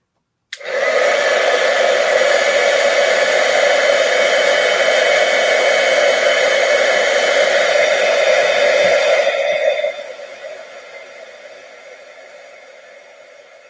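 A handheld heat tool for embossing blows as a loud, steady whooshing hum for about nine seconds, then drops to a quieter, fading whir as it winds down.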